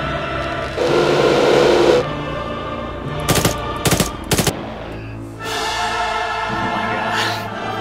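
Bursts of machine gun fire from an attacking helicopter in a video game, three or four sharp rapid volleys in the middle, with steady engine-like roar and game noise before and after.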